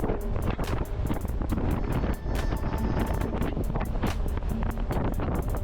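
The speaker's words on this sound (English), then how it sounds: "Damn, it's windy." Strong wind buffets the microphone in loud, rough gusts during a bicycle ride near railroad tracks, with a constant rushing roar and rhythmic thumps, and no voices.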